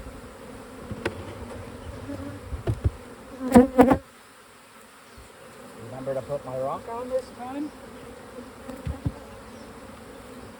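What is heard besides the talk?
honey bees buzzing during hive inspection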